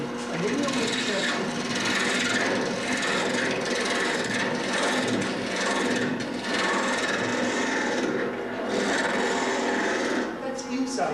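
A shallow fluted gouge carving wood for a flat box gives a steady, close scraping and rasping that runs unbroken throughout at a fairly even level.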